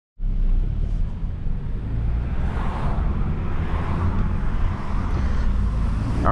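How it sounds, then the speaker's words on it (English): Road noise from a car driving on the road, a steady loud rumble of engine, tyres and wind heard from inside the cabin, starting abruptly and holding constant with no talking. "let's take this baby on the road and show you how she drives"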